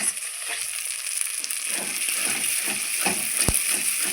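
Masala with cashew paste stirred continuously in a pan for duck egg curry: a steady close sizzle of frying with repeated scraping strokes of a spoon against the pan and a sharp knock near the end, with no talking.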